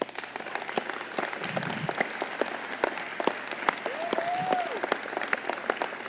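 Steady applause from an audience at a State of the City address fills the room, many hands clapping continuously, with a brief murmur of voices underneath.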